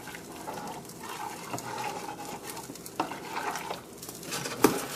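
A spoon stirs a mixture in a pot to dissolve salt for low-carb pulled pork, just after the heat is turned off. Continuous soft scraping and swishing carries faint sizzle, with a sharper clink of utensil on pot near the end.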